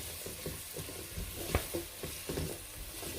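Three garlic cloves frying in a pot as the base of a Turkish lentil soup, a steady soft sizzle close by with light scraping and stirring clatter, one sharper knock midway, no voices.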